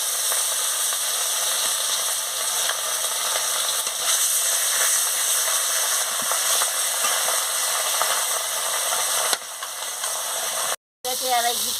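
Katla fish pieces fry in hot oil in a pan with a loud, continuous, close sizzle that holds steady for several seconds before a brief break near the end.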